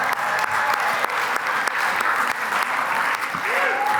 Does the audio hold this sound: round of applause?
yes